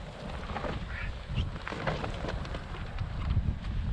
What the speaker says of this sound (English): It is windy, you're gonna hear a lot of wind.